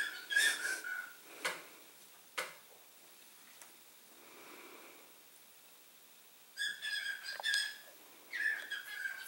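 A pet bird whistling indoors at a workbench, bright short chirps and whistles in a few bursts, fairly faint against a quiet room, with no talking.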